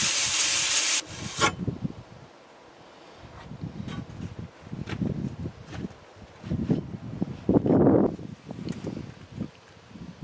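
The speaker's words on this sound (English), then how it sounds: "keep polishing until it's right." An oil pump gasket surface is polished smooth by hand, giving uneven bursts of rough rubbing and scraping strokes with short pauses between passes.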